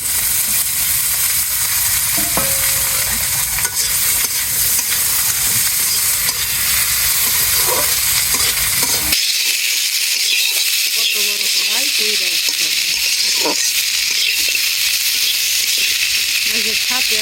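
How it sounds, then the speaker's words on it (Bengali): Tomatoes added to fried onions in a pan for a small fish curry, giving a steady loud sizzle and frying hiss with stirring scrapes, the sizzle dropping in the lower range midway as the tomatoes go in. "এই যে পেঁয়াজ ভাজিয়ে হয়ে গেছে এই যে টমেটো দিয়ে দিলাম"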